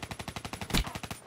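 Automatic gunfire in the Call of Duty: Black Ops 3 video game, a steady rapid stream of about a dozen shots with one heavier blast in the middle, close and loud.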